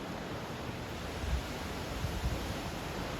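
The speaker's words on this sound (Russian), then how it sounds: "Очень сильный ветер." Very strong wind and rough sea waves during stormy weather on the coast at Sochi, a dense, continuous roar of gusts and surf with low rumbling swells and no voices.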